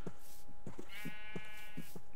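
Sheep in the Minecraft survival game bleat several times in quick succession, clear and fairly close, with a steady tone and some chirpy higher sounds in the background; no talk.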